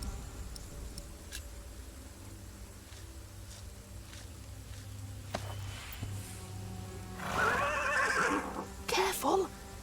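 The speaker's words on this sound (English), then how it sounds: "The horse nearly woke the guard." A horse whinnies loudly near the end in the game Pillars of the Earth, a brief bright neigh rising over quiet ambient background and faint ticking.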